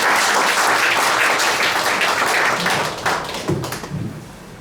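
An audience at a lecture gives sustained applause, dense and loud, then thins out near the end.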